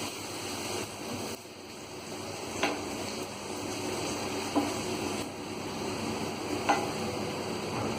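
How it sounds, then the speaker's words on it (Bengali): Warm water stirred into a pan of cooking aloo paneer curry, a steady watery simmer and sizzle with occasional soft scraping stirs rising briefly over the bubbling, no talking. "এই জন্য আমি একটু উষ্ণ জল এর সাথে মিক্সড করবো"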